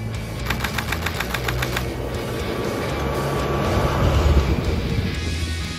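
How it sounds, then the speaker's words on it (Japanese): A DE15 snowplow train with its wings open rumbles steadily closer along lightly snow-covered tracks, its low engine drone swelling gradually, with rhythmic clatter early on. "さあそして列車こちらにやってまいります。"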